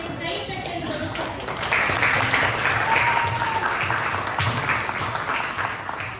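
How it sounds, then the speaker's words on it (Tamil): An audience at a Malaysian Tamil community drama event claps warmly for a five-year-old boy who recited Thirukkural, a sustained burst of many hands that swells midway and tapers off, with a voice speaking faintly under it. "அவனுக்கு கைத்தட்டல் கொடுக்கும்"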